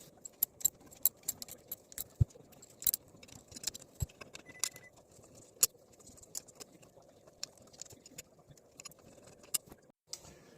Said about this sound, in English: we'll grab our 8 millimeter socket here and we'll get that taken off